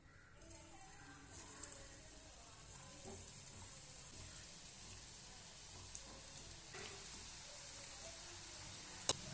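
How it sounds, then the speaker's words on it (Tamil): Dough balls for a simple evening snack fry in hot oil, giving a faint, continuous, even sizzle with a few tiny pops scattered through it. "அந்த உருண்டைகள் எல்லாத்தையும் ஒவ்வொரு உருண்டையும் நம்ம எண்ணெயில் சேர்த்துக்கலாம்"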